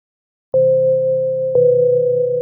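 A Teenage Engineering OP-1 synth feeds steady sustained tones into an Arcus drum machine's sampler input, a pure held note entering after silence, then shifting slightly in pitch with a faint pulsing flutter, clean and fairly loud.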